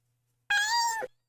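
A virtual cat in the 1996 game Catz: Your Computer Petz gives a single clear meow of about half a second, loud and alone against silence.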